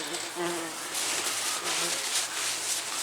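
Flies and bees buzz steadily around a mole hide set out to dry after washing, a continuous close insect drone running through the whole stretch with faint background noise.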